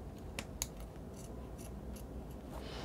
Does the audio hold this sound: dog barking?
no